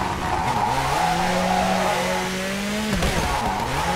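A rally car in WRC4 on a French rally stage, handbrake yanked into a long tyre skid, loud and close, the engine note dropping and holding steady before revving back up, over a continuous gravelly roar.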